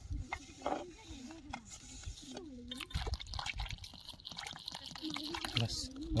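Water is poured into gram flour batter in a home kitchen, a soft trickle and drips under steady talking.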